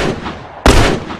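A single loud rifle shot from The Last of Us, in a suburban combat scene, cracks sharply out of low background ambience and rings briefly before fading.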